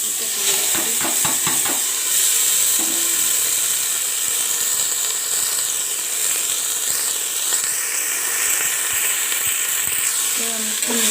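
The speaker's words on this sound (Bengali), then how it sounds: "এবার এটা দেখুন ভালোভাবে ভাজাটা হয়ে গেলে আমি সবজিটা তুলে রাখছি।" Mixed vegetables frying in a pan with cumin seeds, a steady loud sizzle and hiss with occasional stirring clinks, while someone talks over it.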